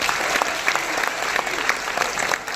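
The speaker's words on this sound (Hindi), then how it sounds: "एक बार आप ताली बजा करके मुझे माहौल दें" Audience clapping at a mushaira, a poetry gathering in India, dense and steady throughout with a few sharper claps standing out and no talking over it.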